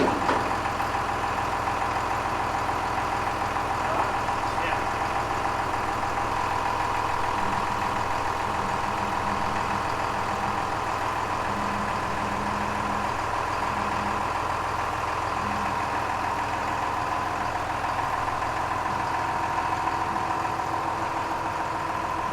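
A loader engine idles steadily during a John Deere CTS combine feeder house repair, a constant mid-pitched drone with a faint rhythmic tapping partway through.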